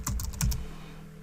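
A short burst of several quick keystrokes on a computer keyboard, close and crisp, followed by a brief quiet tail with no talking.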